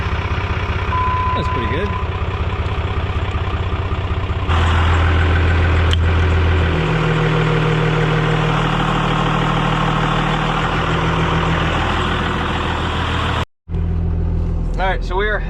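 Hotshot truck's engine runs with a steady, loud low rumble close by, rising in pitch briefly before settling back to a constant idle, with someone speaking briefly over it.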